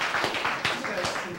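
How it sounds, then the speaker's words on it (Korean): Short burst of audience clapping at a lecture hall, a few distinct claps rising and fading quickly, moderately close, with some voice underneath. "박수"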